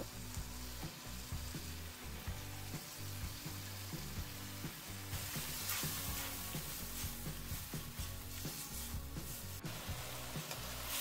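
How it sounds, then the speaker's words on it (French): Chopped parsley and poultry sautéing in a frying pan, a loud continuous sizzle with rhythmic stirring scrapes throughout, brightening as fresh ingredients hit the hot fat, without speech. "Tout le persil haché dans la poêle."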